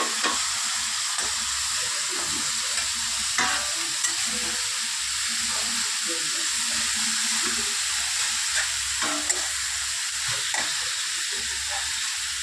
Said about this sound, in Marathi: तो आता आपण यामध्ये ही कोबी टाकून घेणार आहोत